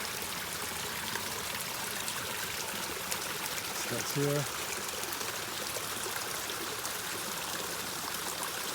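Water trickles and splashes steadily down a small rock waterfall between ponds in a mountain garden, fed by a live water line. It is a soft, constant flow, and someone speaks briefly over it.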